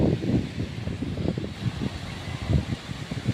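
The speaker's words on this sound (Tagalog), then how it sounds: "Lakas ng hangin na." Steady strong wind on a seashore buffeting and rumbling across the microphone, with gusts swelling and easing, loud and close, no voices present.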